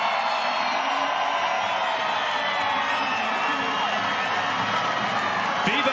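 Dense tennis crowd noise at the 2021 WTA Finals in Guadalajara, a steady, loud wash of cheering and shouting from a big arena audience, sustained throughout without a break.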